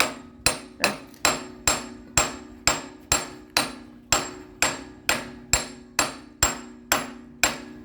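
A hammer knocks a bushing into an excavator bucket pin mount, striking about fourteen times in a steady, evenly spaced rhythm. Each blow is a sharp, ringing metallic clang that decays before the next.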